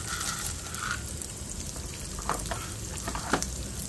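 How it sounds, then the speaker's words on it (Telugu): Urad dal and chana dal fry with cumin and mustard seeds in a hot pan, giving a steady, close sizzle with faint crackles and light stirring scrapes throughout. "ఇవన్నీ దోరగా వేపుకోవాలి"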